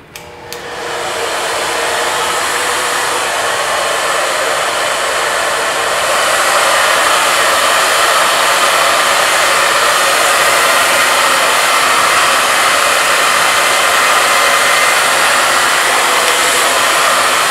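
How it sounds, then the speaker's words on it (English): A hair dryer fitted with a diffuser blows a steady, loud whoosh over curly hair, holding constant and swelling slightly partway through with no voices. "making sure that we're really just letting the hair dry, letting the diffuser work"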